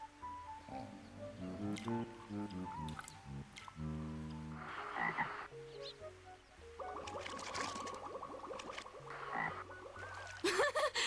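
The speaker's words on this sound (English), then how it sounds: "A frog!" A cartoon frog croaks in The Legend of Mulan (1998) PC game, a quick string of bouncy croaks mixed with splashy, squishy water effects, fairly faint and with no voices.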